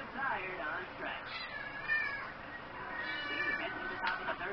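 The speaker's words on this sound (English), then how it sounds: "I heard my cat, I'm sorry." Several faint meows from a house cat come through a noisy room, scattered across a few seconds amid background voices and clutter.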